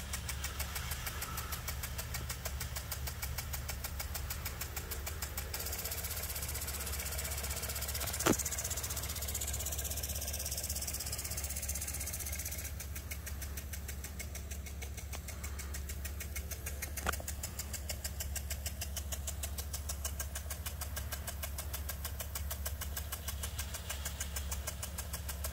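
A part-circle impact sprinkler with a 1/2-inch head runs off a single garden hose, giving a steady, close rush of spraying water with fast, even ticking that carries on unbroken, with no voices.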